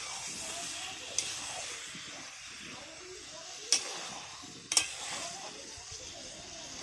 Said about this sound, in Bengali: মা এখানে মাটন রান্না করছে